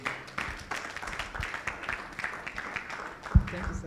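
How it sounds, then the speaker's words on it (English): A men's conference audience claps for a speaker being invited to the podium, a moderate, somewhat uneven round of applause with a few louder individual claps and a thump near the end. "Let's clap for him."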